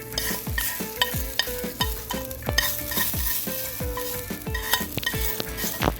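Curry leaves and dried red chillies crackle and sizzle in hot oil for tempering a mango chutney, with steady frying hiss and repeated sharp pops and stirring clinks close by throughout.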